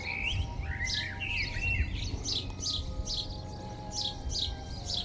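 Starlings gather at morning on ridge tiles near the coast at Bempton, giving a steady run of bright chirps and whistled calls, fairly close, over a low background rumble, with no voices.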